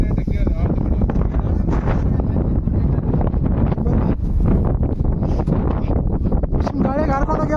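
Strong wind on top of Madhugiri hill, a large monolithic granite hill, roars and buffets the microphone in a loud, continuous, gusty rush, with voices faintly mixed in.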